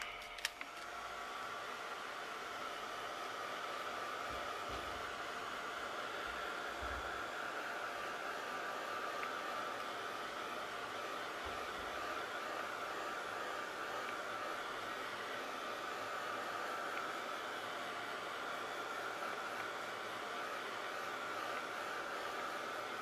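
A hair dryer blowing steadily to dry paint on a vintage-style canvas card, a continuous close whooshing whir that runs unbroken for over twenty seconds, with no voices.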